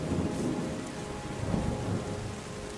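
Rain and thunder in the video game Terra Nil, a steady hiss of rainfall with low rumbling thunder rolling underneath, soft and continuous with no talk.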